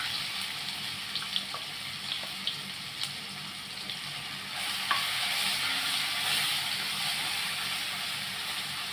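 A ground masala paste sautés in oil on medium heat for a Marathi urad dal dish, holding a soft steady sizzle with several light spatula taps and scrapes, then swelling louder near the end, with no talk.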